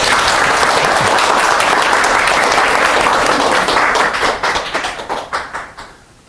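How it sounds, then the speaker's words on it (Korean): An audience at a semiconductor market seminar gives a sustained round of loud applause that thins into scattered claps and fades away at the end. "뜨거운 박수로 맞아주시죠"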